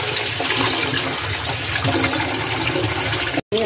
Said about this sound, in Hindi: मैं कितने पानी के साथ सब्ज़ी को अच्छे से वॉश करती हूँ